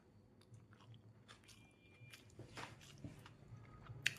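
Close, quiet biting and chewing of a fried egg and rice meal, with soft crunches and wet mouth sounds that grow a little louder toward the end.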